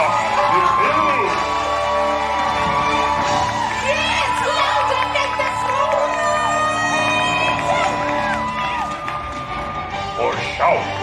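At an opening-day villains stage show at Disney's Hollywood Studios, a large theme park audience cheers, whoops and shouts, a sustained loud wall of adult and children's voices with bursts of yelling swelling near the end.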